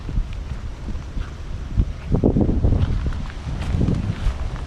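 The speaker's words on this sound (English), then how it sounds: "I think it's because it's too windy." Gusty wind blows steadily across a dead-end road at night, a continuous rough rumble with rustling swells and occasional low thumps, with no voices.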